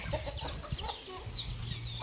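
Chickens cluck close by in quick, rising bursts, with faint background rustling and no talk.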